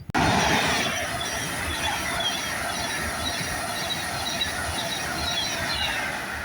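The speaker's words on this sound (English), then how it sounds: "390 141 on the Avanti West Coast service to London Euston." An Avanti West Coast Class 390 Pendolino bound for London Euston rushes past at South Kenton, a steady loud roar of wheels and air rush with faint rail hiss throughout.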